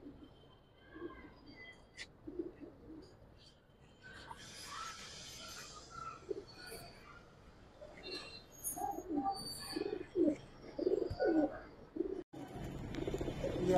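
Giribaz pigeons of the Palla line cooing in a loft, soft repeated coos with scattered chirps and wing rustles, moderately near and growing busier toward the end.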